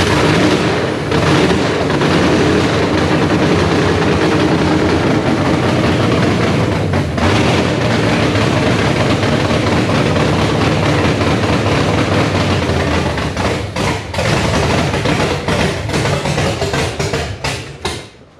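A burnout-built Camaro engine starting for the first time roars loud and raw, a rough, booming, nearly constant exhaust rumble with uneven surges that runs throughout before cutting off at the end.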